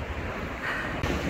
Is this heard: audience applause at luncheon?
no